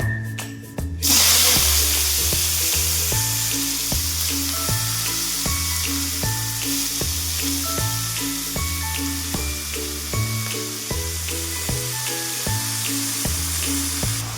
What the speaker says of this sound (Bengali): পাঁচফোড়নটা ভাজা ভাজা হয়ে গেছে, এবার সবজিগুলি দিয়ে দেবো